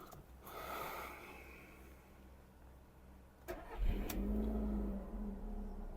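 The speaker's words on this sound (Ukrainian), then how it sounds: "Автомобіль завівся" A Skoda Fabia engine cranks and catches, then settles into a steady low idle after some quiet cabin rustling and a couple of sharp clicks.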